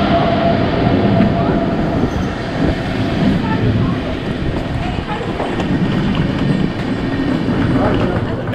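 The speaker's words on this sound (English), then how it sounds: "let's take a look at our train arriving at the station Düsseldorf main station" A Swiss Railway panoramic train pulls into Düsseldorf main station, a steady loud rumble of rolling wheels and rail noise with faint clatter throughout.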